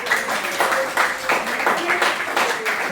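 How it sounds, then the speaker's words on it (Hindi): Students in a physics class clap on request, a short burst of rhythmic, moderately loud clapping with a voice faintly underneath. "ताली बजाओ"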